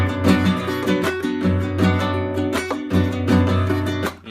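Acoustic guitar strummed in a flamenco rumba pattern using thumb and fingers, a driving rhythmic chug of full chords with sharp percussive accents, close and loud with no talking.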